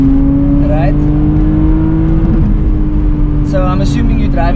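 A Lexus IS300 fitted with a 2JZ engine, held near its rev limiter, gives a loud, close, sustained high drone with engine pulses and bursts of rising whine, under strong background noise and no clear talk.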